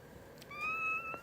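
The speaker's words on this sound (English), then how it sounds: "Yeah, you got a leaky balloon meow." A kitten gives a single thin, drawn-out meow, fairly quiet and close, with a soft rising whine and nothing else around it.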